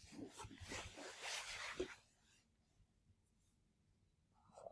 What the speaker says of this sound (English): You're going to write this whole problem on your paper.